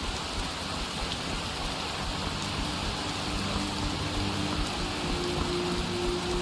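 Steady rain falls in Skyrim, a continuous even hiss of drops with no breaks, moderately loud and unchanging throughout.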